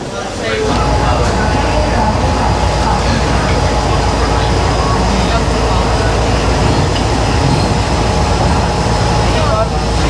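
Passenger train in Thailand rolling along, heard from inside the carriage as a loud, continuous rumble and rattle with a steady hum, unbroken for about ten seconds.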